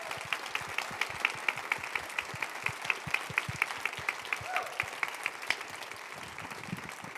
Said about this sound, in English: Would y'all give another round of applause to Moms for Liberty for this afternoon panel?